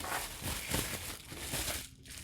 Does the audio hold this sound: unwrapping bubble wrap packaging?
yes